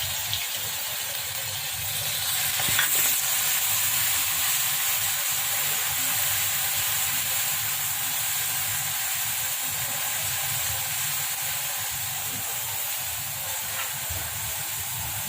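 Spiced paste sizzles steadily in hot oil tempered with cumin, mustard seeds and hing, a continuous loud frying hiss with little variation throughout.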